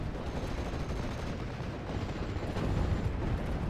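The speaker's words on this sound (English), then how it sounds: "More and more off-map artillery is going to be called in." Off-map artillery barrage in a World War II tactical video game, heard as a dense, continuous rumble of booming impacts and gunfire that swells slightly louder toward the end.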